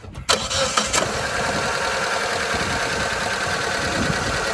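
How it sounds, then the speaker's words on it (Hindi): A car engine cranks and catches near the mic with a short burst of starter noise, then settles into a steady, loud idle for several seconds; no talking. "मैं गाड़ी को स्टार्ट करूँगा।"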